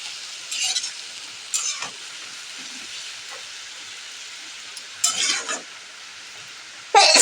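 Water spinach (kalmi greens) fried in a pan: a steady sizzle runs throughout, broken by several short scraping bursts of stirring spaced a second or two apart, with no voices.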